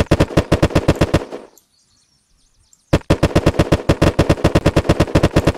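Rapid automatic gunfire from a weapon in the video game Unturned: a loud, close burst of evenly spaced shots, a brief silence, then a second long burst.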